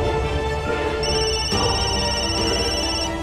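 A telephone rings for an incoming call, a steady electronic ringtone with a sustained high tone repeating over a busy indoor background, loud and close, with no talking.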